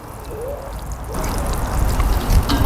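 High potassium liquid fertilizer being poured onto hardy geraniums, a steady trickling splash that builds louder after the first second and runs on close by without talk.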